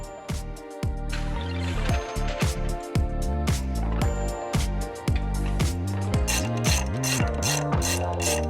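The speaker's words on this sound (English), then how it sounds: "we're going to unbolt the factory shock and then swap the Foxy boys in" A ratchet wrench clicks in rapid, rhythmic bursts while the factory shock on a 6th-gen Toyota 4Runner SR5 is unbolted, the mechanical clatter close and steady, with a few short pauses between runs.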